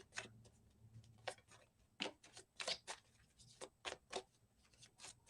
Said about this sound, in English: I'm just shaking up these cards a bit to make it easier to shuffle.